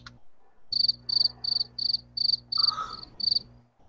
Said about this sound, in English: Crickets. That would have been the crowd.